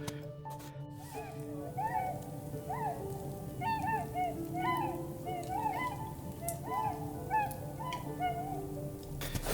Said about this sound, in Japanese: なんか白鳥っぽい鳴き声がね、すごく聞こえてきます。